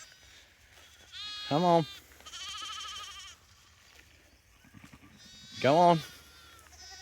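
Lambs bleat on a farm in two loud, wavering calls a few seconds apart, close by, while a person coaxes them along between the cries.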